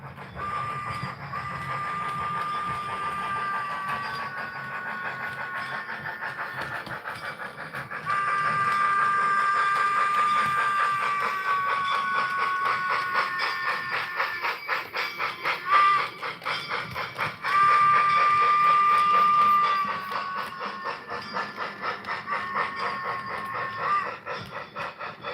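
Model trains run on a compact layout, giving a continuous mechanical rumble with rapid clicking wheels and a whining motor hum that swells and fades over time, with no voices.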